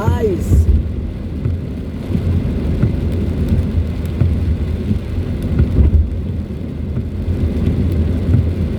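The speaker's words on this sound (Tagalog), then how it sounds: "Medyo malakas-lakas na yung ulan guys." Heavy typhoon rain falls steadily on a car during a road trip through the Alabang hills, a dense continuous wash with low rumbling and occasional louder swells.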